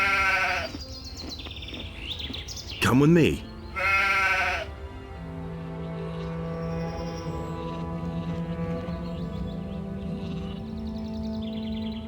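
In the Gothic 2 PC game, a sheep gives a loud quavering bleat, then a second bleat close up, with a character speaking briefly first and steady ambient game sound continuing after.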